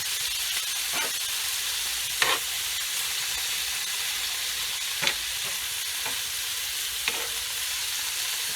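Taco meat sizzles steadily in a hot pan while Worcestershire sauce is stirred in, a constant bright frying hiss broken by a few scraping utensil strokes at irregular intervals.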